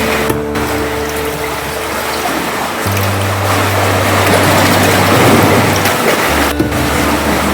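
Ocean waves surging into a big rock crack on Weld Island off western Vancouver Island, British Columbia, a loud, continuous rushing wash with a low steady hum beneath and a brief knock near the end.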